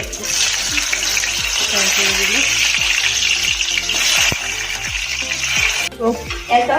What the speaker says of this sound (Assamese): আলুখিনি ফ্ৰাই কৰা হৈ গ'ল